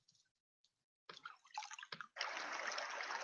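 Flowing water ambience plays from a PC background-noise app, starting as scattered drips and trickles, then settling into a steady, close, quiet rushing stream.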